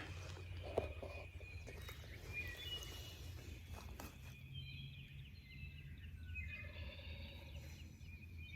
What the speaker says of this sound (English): He's gobbling probably about 150 or so from me.